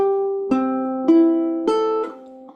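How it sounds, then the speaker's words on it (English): Four plucked ukulele notes, from the fourth string to the first, one after another at an even pace, each ringing out clearly before the next string sounds; no talking. "ukulele will sound like this when you go from the fourth to the third to the second to the first string"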